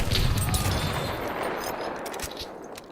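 Dense battlefield gunfire from Battlefield 1, with a Martini-Henry rifle firing single rounds amid scattered shots and explosions, loud and continuous across the whole stretch with no voices.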